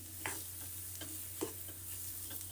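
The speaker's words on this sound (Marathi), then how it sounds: "याला मी मिक्स करून घेते आणि बंद करते" Moong dal halwa being stirred in a pan, quiet soft scraping strokes and light taps of a spoon at an irregular pace over a faint low hum.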